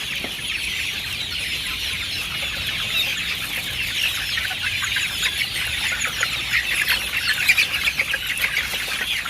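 A flock of KUB chickens clucking and squawking busily while eating maggots, a steady chorus of bird noise with quick pecking-like clicks throughout.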